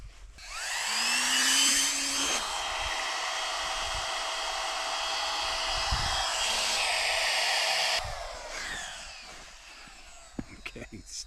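A Flextail Max Pump 3 pressed to the valve of a 3-inch-thick single air mattress gives a loud, steady whirring rush of air for about seven seconds, then cuts off, leaving quieter handling noises.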